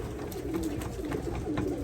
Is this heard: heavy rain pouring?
no